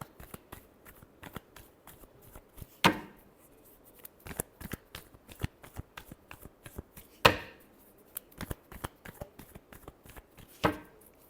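Tarot cards shuffled by hand in repeated quick riffles and soft taps, close and crisp, with a few sharper slaps standing out amid the rapid irregular patter.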